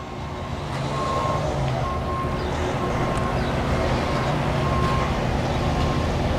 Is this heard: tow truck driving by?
yes